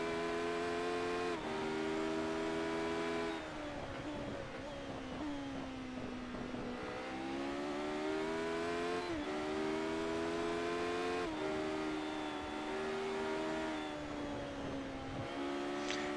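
Race car engines in a racing video game driven with a joystick, a continuous high whining drone that rises and falls as the car accelerates and shifts through turns, with no talking.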